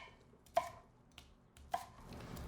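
A knife chops food on a board in a few sparse, uneven strokes, two sharp clear knocks and a softer one between them, against quiet room noise.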